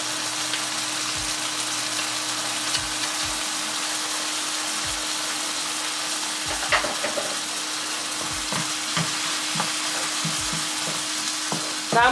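Two cloves of pressed garlic sizzle steadily in a hot pan, a continuous close frying hiss broken by occasional soft stirring clicks and scrapes.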